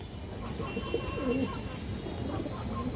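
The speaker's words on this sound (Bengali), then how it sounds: "পাকিস্তানি হাই ফ্লায়ার রামপুরি মাদি কবুতর" A Pakistani Rampuri high-flyer female pigeon coos softly in a few low, rolling phrases close by, over a steady hum of background noise.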